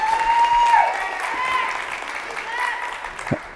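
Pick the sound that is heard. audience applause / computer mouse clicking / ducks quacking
audience applause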